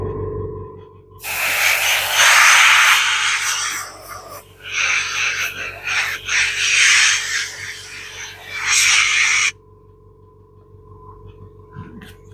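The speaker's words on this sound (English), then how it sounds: "what you can hear me doing there is spraying and keeping the air flowing" Spraying and blowing air to dry an aircraft canopy, loud hissing bursts that start and stop in several long blasts, then give way to a quiet hum.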